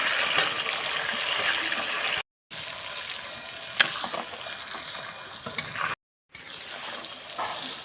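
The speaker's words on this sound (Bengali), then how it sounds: "চিকেন ভাজা তেলে গোটা গরম মশলা দেব শুকনো লঙ্কা তেজপাতা জিরে কুচি" Whole garam masala, dried chilli, bay leaf and cumin frying in oil left from frying chicken, a continuous hissing sizzle at moderate level, broken by two brief silent gaps, without speech.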